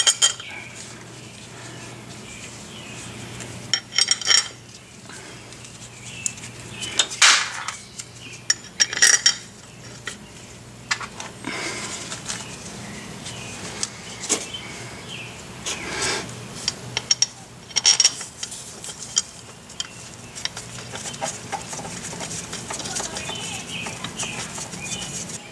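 Bolts are threaded in and snugged on a Saturn SL2 DOHC transmission during a 5th gear swap, with scattered close metallic clinks, ratcheting and tool rattles over a steady background hum and no talk.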